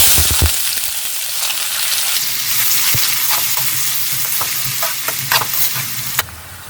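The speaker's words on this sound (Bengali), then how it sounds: "এখন আমার পেঁয়াজটা ভাজা হয়ে এসছে" Chopped onions sizzling and frying in a pan for dal makhani, a loud, close, continuous crackle with stirring scrapes and a sharp clatter near the end.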